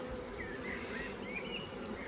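A honey bee colony at a zoo hive, opened by beekeepers, buzzing in a steady, dense drone with no talk.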